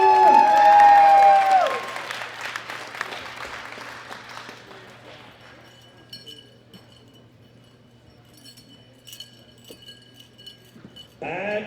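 Audience applause at a World Classic Powerlifting Championships 2018 medal ceremony, women's open 52 kg class: loud, dense clapping that peaks at the start and then thins into scattered claps, with a brief renewed burst at the end.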